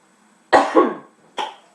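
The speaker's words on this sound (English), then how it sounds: "I don't know what that cough was for." Someone in a kitchen during a cooking session coughs: a quick double cough, then a single cough after a short pause. The coughs are close and fairly loud against a quiet background.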